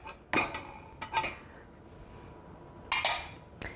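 A spoon stirs brine with seeds in a cooking pot, giving a few scattered scraping clinks against the metal, close and fairly quiet, in short bursts separated by pauses.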